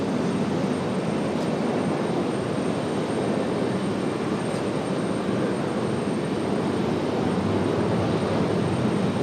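A Delta airliner coming in to land on runway 23 right at Raleigh-Durham airport, a loud, continuous broadband roar of jet engines and rushing air that holds steady throughout, with no voices.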